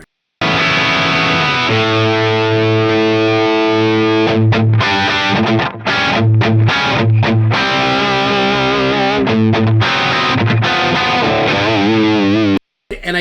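Black Les Paul electric guitar chugs a heavy rhythm part through an 808 overdrive, thick and distorted with palm-muted bursts and short stops, loud and upfront with no talking.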